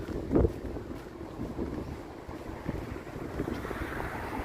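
Wind gusting along a cold sub-zero evening street in Toronto, a steady low rush with buffeting against the microphone and a brief louder gust near the start, no voices.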